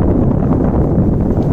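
Outdoor wind buffets a phone microphone in loud, low rumbling gusts that roll on continuously for the whole moment, with no speech.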